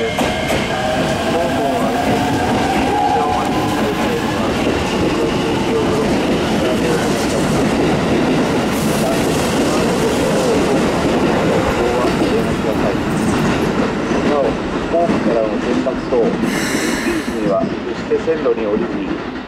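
A Keikyu train runs through Kanagawa-Shinmachi station, its loud rumble and clattering wheels filling the platform nonstop, with a brief high squeal near the end.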